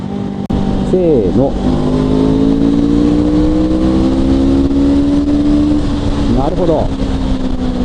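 A Honda CL500 motorcycle pulls hard in third gear at highway speed, its engine note a loud, steady drone that rises gradually in pitch, with brief spoken remarks over it.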